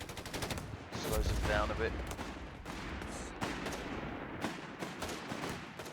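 .30 cal machine gun fire in Company of Heroes 3, a battle against a DAK force: bursts and scattered shots of gunfire, with a heavier burst early on, under a voice talking over the action.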